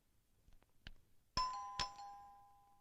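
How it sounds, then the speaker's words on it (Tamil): A doorbell chimes twice, a clear ding followed by a dong that rings out and fades, after a few faint soft knocks. "காலிங் பெல் அடிக்குது, யாருன்னு பாரு."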